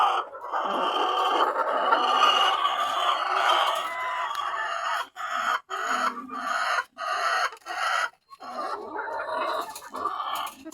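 RTL chickens on a poultry farm cluck and squawk in a busy chorus, close and moderately loud, with short pauses between bursts of calls.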